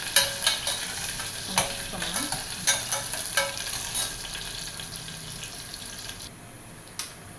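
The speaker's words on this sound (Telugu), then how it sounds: "కొద్దిగా మినపప్పు వేసుకోవాలండి ఇలాగా వేసుకున్న తర్వాత వీటన్నిటిని మంచిగా కలిపేయాలి" Urad dal, chana dal and cumin frying in a pan for a Rayalaseema fenugreek dal, stirred with a utensil: steady sizzle with repeated scraping strokes over the first few seconds, then a quieter hiss with one late clack.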